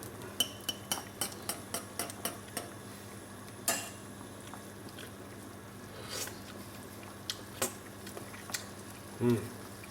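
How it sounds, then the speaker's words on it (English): A flour-thickened sauce simmers in a pot while a utensil clinks against the rim in a quick series of taps, then scrapes and stirs at intervals over a faint bubbling background. "we want to just simmer it for 3 or 4 minutes just to cook the flour out"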